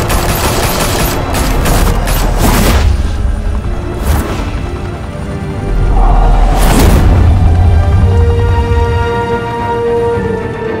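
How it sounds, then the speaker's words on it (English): Loud, sustained gunfire in Batman: The Telltale Series, with dense overlapping bursts and booming impacts. Heavy volleys come early, then a second surge a few seconds later. "Open fire!"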